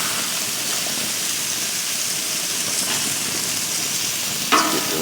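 Sausages frying in a pan, giving a steady close sizzle throughout, with a short clatter near the end as they are turned.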